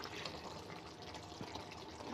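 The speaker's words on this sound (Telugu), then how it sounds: "గ్లాసులో సగం నీళ్ళు పోసుకుంటున్నానండి" Water poured from a glass into a hot cooking pot of drumstick chicken curry, a steady splashing pour lasting about two seconds with no talking.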